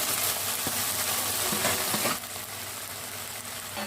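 Sauces and noodles stirred in a hot pan for Hakka chow mein: a close, continuous sizzle with clattering scrapes of the spatula for about two seconds, then a quieter, softer hiss of frying.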